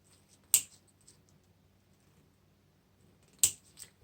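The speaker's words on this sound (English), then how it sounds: "now I'm going to go through and cut all these tie wraps off" Plastic tie wraps snipped off a handmade Pride wreath: two sharp, close snips about three seconds apart, each a single crisp click, with faint handling noise between them and no talking.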